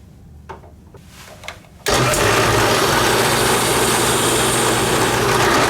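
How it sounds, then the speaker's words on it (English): Power drill fitted with a 3/8 inch bit boring into a resin handle: quiet handling sounds, then the motor abruptly spins up to a loud, steady high-pitched whine that holds to the end. "put a 3/8 inch bit, and drill this another ½ inch deeper"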